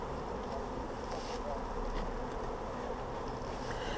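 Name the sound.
honey bees buzzing at hive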